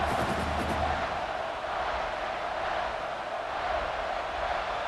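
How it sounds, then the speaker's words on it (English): A football stadium crowd at Oregon vs Nebraska roars in a broad, continuous wash of noise, steady and fairly loud for the whole stretch, with scattered yells inside the din. "The roar of the crowd trying to fuel this defense to keep them pinned in their own end"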